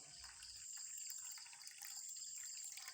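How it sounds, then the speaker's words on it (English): Water poured into a drinking glass gives a faint, steady trickle and splash that runs unbroken, thin and quiet, with no talk over it. "So inside the glass I am pouring the water."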